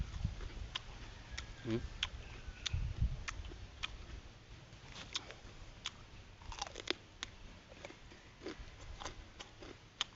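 Crisp crunching bites and chewing of raw carrot close to the mic, with sharp irregular snaps scattered over a quiet background.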